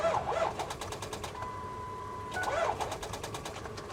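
A Ford Power Stroke diesel engine in a Ford Excursion cranking in two bursts of quick, rhythmic chugging, separated by a short steady electronic tone, fairly faint.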